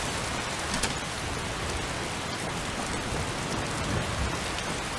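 Steady rain falls in a Skyrim-style fantasy game near Riverwood, a dense, even hiss of drops on the ground with a soft low rumble beneath it and no voices.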